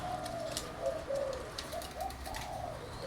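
A male wild zebra dove (Java dove) coos in a series of soft, repeated rolling notes over steady background noise, with faint chirps from other birds.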